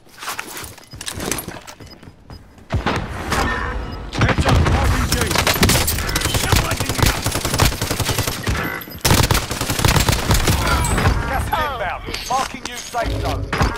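Bullfrog SMG fired in a video game, loud rapid automatic bursts in close succession with short pauses between volleys, mixed with footsteps and game effects.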